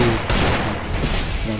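Rapid gunfire rattles in the Free Fire video game, a loud burst of dense shots with overlapping blasts and a voice briefly talking underneath.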